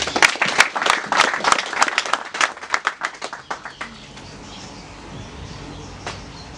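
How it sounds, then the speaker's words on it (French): A small audience at a commune project presentation in Akanda gives a short burst of applause, a handful of distinct claps close by that thin out and fade after about four seconds, leaving quiet room tone. "Et je veux qu'on applaudisse encore pour lui."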